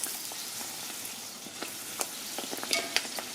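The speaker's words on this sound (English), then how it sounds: "So it's literally like flash frying." Fried bake dough flash frying in oil heated to 450 degrees Fahrenheit, a steady close sizzle with scattered crackles and pops and light stirring, no voices.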